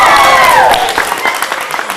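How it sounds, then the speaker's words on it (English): An audience cheers and applauds for a Bingham Foundation Award nominee: a dense, loud wash of clapping with crowd voices, steady across the whole moment and easing slightly toward the end. "Let's give a big cheer to this year's Bingham Foundation Award nominee, Tom Marlowe."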